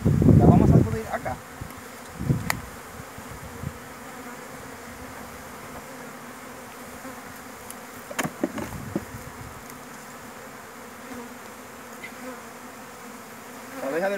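A steady hum of many honeybees fills the air as they are shaken out of a hive, broken by a few loud knocks and thumps near the start and again midway.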